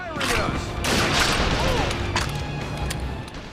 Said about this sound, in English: now he's getting shot at by a whole bunch of guys